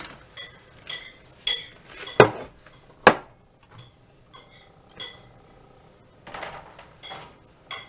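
Knafeh, a Lebanese cheese pastry, flipped out of its pan into a serving bowl, with a scatter of light dish and cutlery clinks and two sharper clatters of metal against ceramic, close and without talk.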